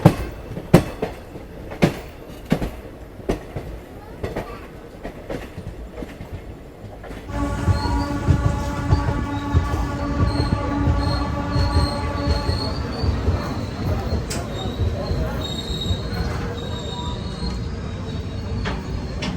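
Mithila Express rolling into Durgapur station, with rhythmic wheel clatter at first, then loud, sustained high-pitched wheel squeal over a steady rumble as it slows along the platform.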